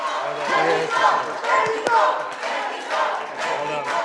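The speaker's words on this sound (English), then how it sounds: "The entire Mexico bus jumps out of their seats, shouting, cheering, hugging their teammates." The Mexico bus team erupts at the 3rd place announcement, a crowd shouting and cheering in rising and falling bursts, with claps and thumps scattered through the noisy, fairly close din.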